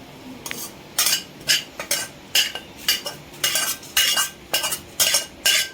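Dried coconut dry-roasting in a pan for fenugreek laddu flour, a utensil scraping and stirring in regular rhythmic strokes, about a dozen crisp scrapes close up with no talking.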